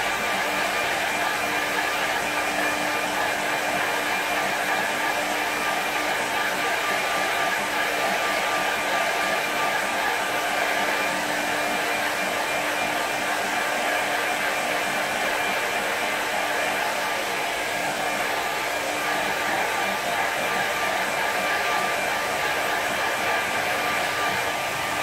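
A hair dryer blows steadily on a fresh snow watercolour painting, a loud continuous whooshing hiss that holds at an even level throughout with no pauses.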